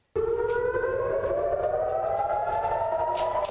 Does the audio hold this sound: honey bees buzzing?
no